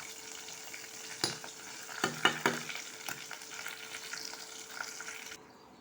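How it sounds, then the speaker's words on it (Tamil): Ground ginger sizzles and fries in oil with curry leaves for ginger pickle, a steady close hiss with a few sharp stirring scrapes near the middle before it settles. "எண்ணெய் நல்லா பிரிஞ்சு வர வரைக்கும் வதக்கணும்."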